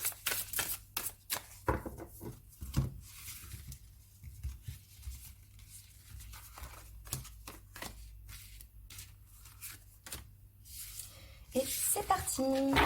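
Tarot cards shuffled for a cartomancy reading, giving repeated quick riffling and papery slaps in bursts across the clip, close and fairly clear, with no one speaking.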